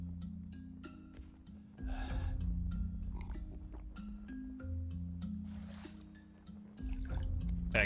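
Water being collected in the survival game Raft plays as a run of gurgling, trickling liquid sounds over a low, droning musical backdrop. Short splashes and drips keep breaking in for about eight seconds, and no one talks.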